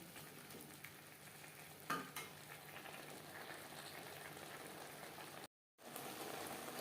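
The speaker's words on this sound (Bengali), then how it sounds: "নারকেল ও মশলার সাথে চিচিঙ্গা বেশ ভালো করে মিক্সড করে দেবো" Snake gourd being mixed with coconut and spices in a pan, a steady soft sizzle with a sharper scrape of the spoon near the start and a brief dropout of sound, close and quiet, no talking.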